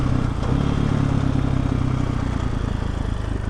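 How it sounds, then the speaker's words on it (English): A Malaguti scooter engine running while riding, a steady, loud, close buzzing drone with a constant low rumble and no pauses, with wind noise and no talk. "Oh, Malaguti scooter."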